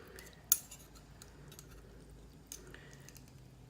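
A metal spoon scrapes and clinks against a strainer as it presses thick honey through for homemade cough syrup, with one sharp clink near the start and a softer one later over a quiet kitchen background.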